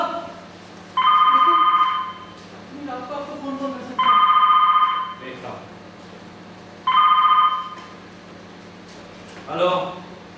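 A telephone rings in three long electronic bursts with pauses between them, loud and close, while people talk in the gaps.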